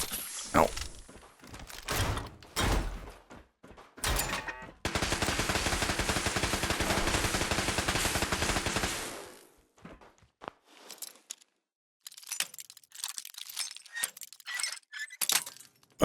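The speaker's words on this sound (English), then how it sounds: "this gun is dangerous in close quarters" Fallout 4 video game gunfire, first single loud shots with glassy breaking debris, then a sustained automatic burst of about four seconds, followed by quieter scattered shots and impacts.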